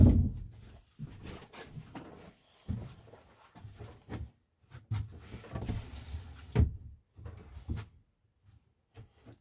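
Windows being opened on an off-grid houseboat produce a string of close knocks, thuds and sliding scrapes with short quiet gaps between them and no speech.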